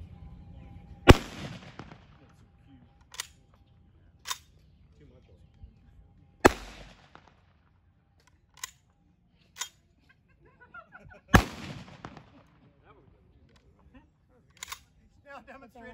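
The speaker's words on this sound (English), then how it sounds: "Pretty sure most of you can name me what this is, right? Thompson machine gun." A Thompson submachine gun fires at a living history weapons demonstration: three loud, sharp bursts spaced several seconds apart, each followed by echoing decay, with fainter single pops in between and some talk in the background.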